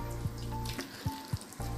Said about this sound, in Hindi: करीब 1/2 कप पानी इसके अंदर हम डाल देंगे